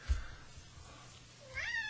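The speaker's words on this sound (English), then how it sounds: "My freaking cats" A pet cat gives a rising, drawn-out meow near the end, over a low indoor hum and background noise.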